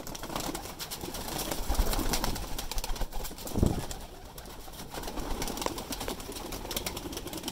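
Young pigeons coo softly over a noisy background, with a brief burst of wing flutter partway through.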